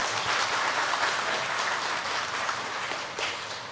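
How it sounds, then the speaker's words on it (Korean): Congregation applauding in a church worship service, a steady dense wash of many hands clapping at once, sustained evenly throughout with no speech over it. "우리 박수 한번 드리겠습니다"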